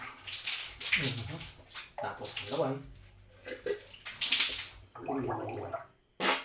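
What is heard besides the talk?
tap water running while brushing teeth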